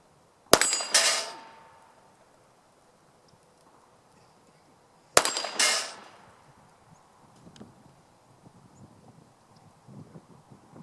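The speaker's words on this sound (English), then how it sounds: "That's damn good shooting." Two sharp handgun shots ring out at an outdoor shooting range several seconds apart, each a loud crack followed by a ringing echo that trails off, with faint background noise between them.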